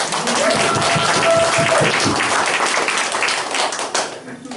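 An audience gives a round of applause, brisk close clapping that stays strong and then thins out and fades away in the last second.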